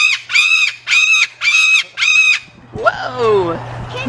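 A rooster crows in several loud, repeated bursts at close range, followed by a lower, wavering squawk as the calls break off, with a faint steady hum underneath.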